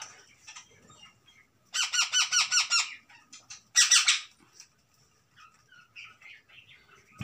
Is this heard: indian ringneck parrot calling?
yes